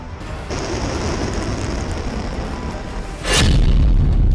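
A heavy aerial bomb detonates, reported as an ODAB-9000 with the force of 44 tons of TNT, over Kharkiv in the Russia-Ukraine war; a hiss of background rumble is broken by a sudden loud, deep blast that keeps roaring.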